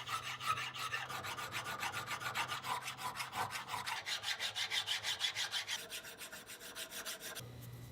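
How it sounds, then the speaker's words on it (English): A metal nut and bolt are filed smooth by hand, with a close, steady run of rhythmic rasping strokes, about three per second, that stop abruptly near the end. "Once the nut and bolt were filed smooth"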